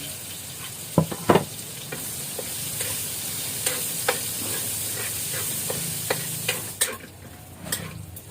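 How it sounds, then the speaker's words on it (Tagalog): Onion and garlic sautéing in hot oil, a continuous crackling sizzle with repeated clacks of a spatula stirring against the pan, close and with no voices. "Ilunod na nato ang sibuyas at saka bawang."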